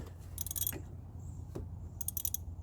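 A wrench on the alternator bolt turns the engine of a 1989 Chrysler LeBaron GTC turbo, producing faint ratchet clicks in short bursts with soft mechanical knocks between them.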